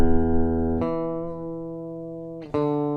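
An electric guitar recorded direct through a Hosa Sidekick DI box, first take: a sustained chord that rings steadily, then a second chord struck near the end, loud and close with no talking.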